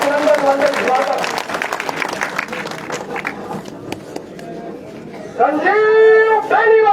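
A political rally crowd claps and cheers to welcome a local leader. The applause is steady and dense, and an amplified announcer talks over it before the noise swells again near the end.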